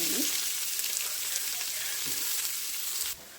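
Chopped onion frying in a pan for biryani, a steady close hiss of sizzling oil that runs on without a break, then drops away sharply near the end.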